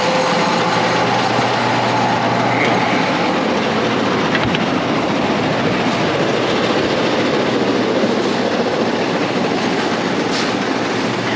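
Grain auger unloading seed from a bin, a loud continuous broadband rattling roar, steady and close throughout with no voices.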